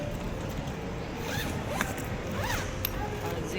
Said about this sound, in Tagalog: Zipper dito.